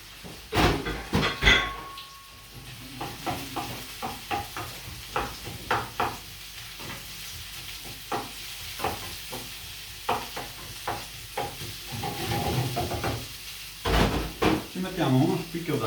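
A whole garlic clove sizzles in hot oil in a pan, a soft steady frying hiss under a speaking voice, punctuated by clinks and scrapes of utensils against cookware.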